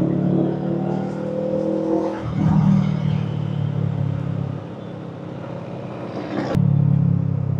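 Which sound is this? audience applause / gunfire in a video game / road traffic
road traffic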